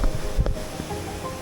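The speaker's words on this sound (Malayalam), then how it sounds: "ഇവിടെ തന്നെ വെള്ളച്ചാട്ടത്തിന് സൈഡിൽ തന്നെ" A waterfall pours beside a cave entrance, a steady broadband rush of water with a few brief knocks near the start and no talk.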